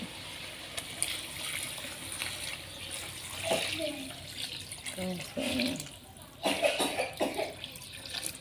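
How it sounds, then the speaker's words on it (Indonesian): Tap water running into a cooking pot, a little over a litre, for a Betawi tofu and tempeh semur, a steady splashing stream that swells and breaks up in places, with a cough and some kitchen movement around it. "Kasih air ya bun ya, 1 liter lebih dikit."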